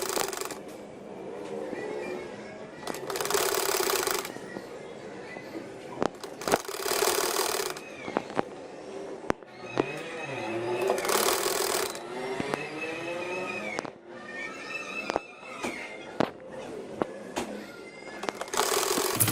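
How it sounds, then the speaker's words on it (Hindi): A sewing machine stitches the sleeve onto a six-month baby boy's shirt in several bursts of fast whirring, separated by pauses with handling clicks and fabric rustle, close and clear. "अब मैं यहाँ से बाजू की सिलाई करूँगी।"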